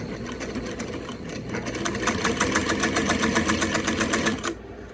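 A Singer 185J sewing machine, fully restored, runs a test stitch close by: a rapid, steady mechanical clatter that builds in speed and stops abruptly near the end.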